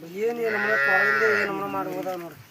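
Sheep bleating in a village flock in Vijayapura taluk, a single long wavering bleat close by and fairly loud, with outdoor background noise.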